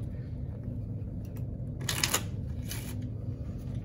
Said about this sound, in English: All right, shuffle it up.